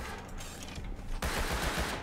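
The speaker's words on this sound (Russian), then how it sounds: "Их убей, там с Томпсоном стреляет." Thompson submachine gun fire in the Rust survival game: dense, continuous bursts of gunfire, loud and close, growing heavier after a brief lull, with no talk.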